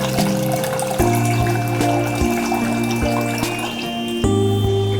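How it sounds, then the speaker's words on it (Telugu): Water poured into a pressure cooker holding rice and moong dal, a continuous close trickling pour over a steady background hum, with no talking. "దానికి 3 కప్స్ వాటర్ చేర్చుకోవాలి"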